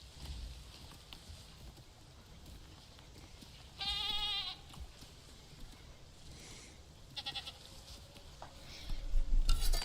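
A sheep in a video game bleats once, a clear wavering bleat in the middle, with a couple of shorter fainter bleats following over a quiet game background.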